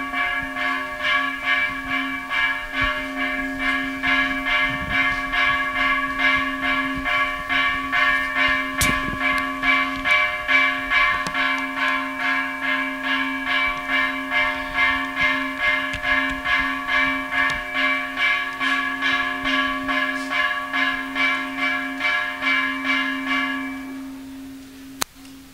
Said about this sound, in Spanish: Vamos a darle chance a la campana.